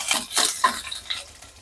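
Onions dropped into ghee and oil in a small tempering pan, with a soft crackle and scraping stir strokes and a few spoon clinks on the metal, close and moderately loud.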